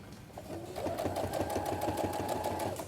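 A sewing machine stitches a hem on a crochet bag, its motor building to a steady, fast whirring hum that runs continuously up close at a soft level.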